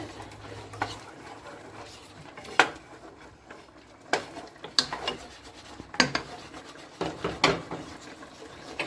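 Ingredients are mixed in a pot during home cooking, with intermittent scraping and clinking of a utensil against the pot, several sharper knocks spread through the stretch, all fairly quiet.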